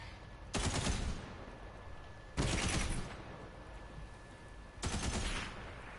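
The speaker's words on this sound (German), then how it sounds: "Die Schüsse prallen ab von der Wand, oder wie?" Three bursts of rapid automatic gunfire in the video game Borderlands 3, evenly spaced and loud, each lasting under a second, separated by quieter background noise.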